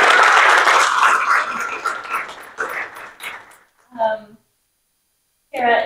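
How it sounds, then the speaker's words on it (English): Audience applause at an American Advertising Federation district conference, a dense burst of clapping that fades over a few seconds before a voice speaks briefly. "Another round of applause."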